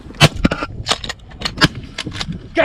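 Shotgun fire at geese during a two-man goose hunt in Iowa: a rapid string of sharp, loud bangs, several shots in quick succession close by, with no talk in between.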